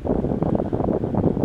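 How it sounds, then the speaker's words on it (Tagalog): Loud, strong wind roaring and buffeting the microphone in a continuous low rumble, with no voices. "Ang lamig dito. Grabing hangin."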